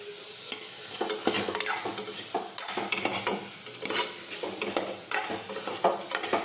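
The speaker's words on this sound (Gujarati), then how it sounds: "હવે આપણે આ રીતે સાતળતા જઈશું." A spoon scrapes and stirs ridge gourd curry with sugar in a sizzling pan, making repeated close, uneven clatters over a soft frying hiss, with no voices.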